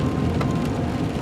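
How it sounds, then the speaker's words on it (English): Steady rain patters on a vehicle during a snowy drive on a partly plowed road in fog, a continuous soft hiss close by with a low rumble underneath. "kind of getting some rain"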